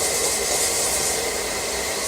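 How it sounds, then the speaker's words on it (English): A whisk stirring dry fruitcake ingredients with cinnamon in a bowl gives a steady, close, continuous scraping rustle, loud and unbroken, with no voices. "I use a whisk and I just whisk it all up here."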